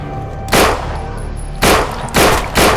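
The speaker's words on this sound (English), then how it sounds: "I heard gunshots." Gunshots in the zombie game No More Room in Hell ring out as four sharp, loud cracks, spaced unevenly across a few seconds with a low steady background between them and no talk.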